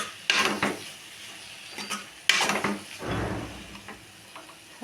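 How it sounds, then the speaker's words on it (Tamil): Cooked rice tipped into a pan of egg fried rice and stirred, giving a few loud scraping, clattering bursts of a spatula against the pan over a soft background sizzle. "வடித்து வச்சுருக்கிற சாதத்தை இதோட கொட்டி நம்ம கிளறிக்கலாம்."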